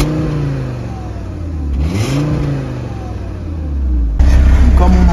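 An Audi RSQ3 with 310 hp, in stock condition, launches and accelerates hard, the engine note rising and dipping through a gear change, then a loud close roar as revs climb again.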